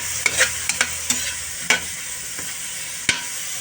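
Bitter gourd (ampalaya) frying in a pan, a constant bright sizzle broken by several distinct scrapes and knocks as it is stirred at irregular intervals.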